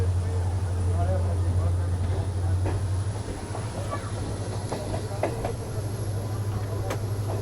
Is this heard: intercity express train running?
yes